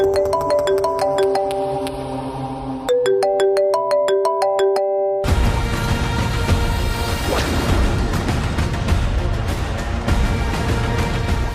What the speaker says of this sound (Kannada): ಅಗ್ನಿ ಫೋನ್ ಮಾಡ್ತಾ ಇದ್ದಾನಲ್ಲ